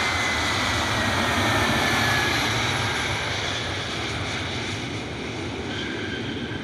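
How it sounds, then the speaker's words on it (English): An Airbus A321neo airliner inbound from Denver roars past at Cleveland, a steady broad engine rush holding loud and then slowly easing, with no talk. "this is an A321neo inbound from Denver"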